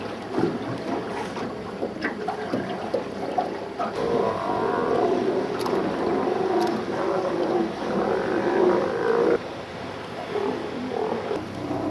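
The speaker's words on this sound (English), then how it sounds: "A couple of inquisitive harbour seals lead us on to a large colony of sea lions." A large colony of sea lions off Alaska, heard from a boat, gives a continuous chorus of rough barks and roars over a low engine and water wash, moderately near.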